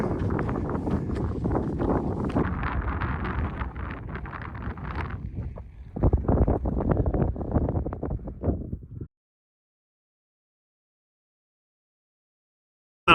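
Desert wind buffets the microphone in strong, rumbling gusts for about nine seconds, broken by a brief lull partway through, then drops into near silence before a short final burst.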